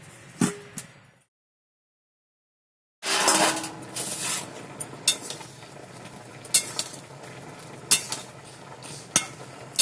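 A bowl set over a cooking pot as a cover while ash gourd pieces boil for morabba. Metal and ceramic clinks and knocks sound close by, then a silent gap, then more scattered clinks and a few sharp taps.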